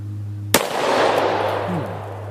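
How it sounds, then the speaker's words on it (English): A single loud shotgun blast of exotic ammunition rings out near, with a sharp crack followed by a long fading rumble over a steady low hum. "I'm just going to shoot over that just to make sure we have enough room for the other exotic ammo we have"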